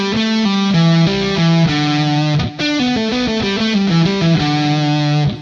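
An electric guitar with distortion plays a lick of fast, sustained notes stepping across the strings, loud and alone, with a brief break in the middle before the run continues.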